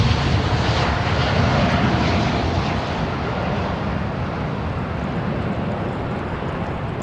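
An airliner takes off at Sydney Airport, its jet engines producing a loud, sustained roar that holds steady and slowly eases as the aircraft climbs away.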